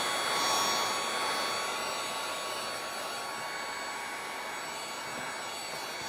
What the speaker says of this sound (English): So this heat gun is just really going to speed it up for me.